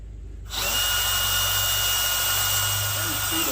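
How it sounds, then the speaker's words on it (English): A power drill bores into a Ford F-100 truck, starting abruptly after a short silence and then holding a loud, steady high-pitched whine close by. "Now put your drill bit back up there and figure out where you wanted it"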